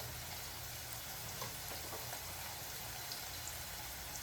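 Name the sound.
chopped chillies added to hot pan, frying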